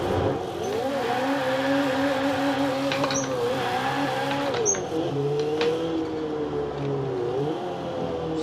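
A car in Forza Horizon 4 making a regular takeoff without launch control, the engine note climbing and dipping through gears at close range with brief tire chirps, continuous and fairly loud.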